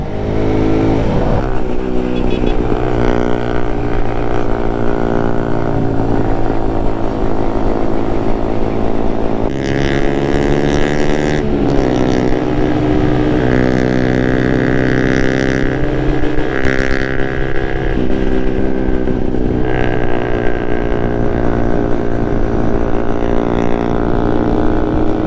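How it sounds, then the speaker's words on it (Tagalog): Suzuki Raider Carb 150 motorcycle engine on a road ride, a loud, continuous droning exhaust note that rises and falls as the rider shifts and accelerates, steady and close throughout with no talking. "Di natin ramdam yung makina natin sa muffler ni Paring Ken."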